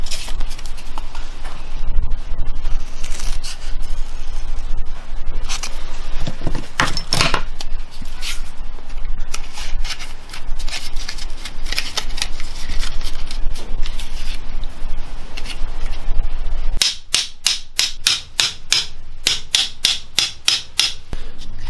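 Scissors cut through cardboard to make the flight of a homemade throw rocket, with long continuous rough scraping and rustling close up that ends in a quick run of a dozen sharp, rhythmic snips.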